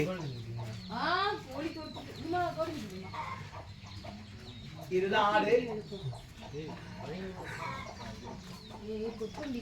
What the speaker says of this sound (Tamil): கோழிக்குட்டி